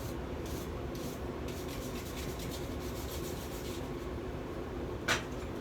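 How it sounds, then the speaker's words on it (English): Forge scale is scraped off a hot Bowie knife blade, a steady, close rasping rub that repeats in short strokes over a roaring forge background, ending with a brief sharper scrape. "Get any of that excess forge scale off."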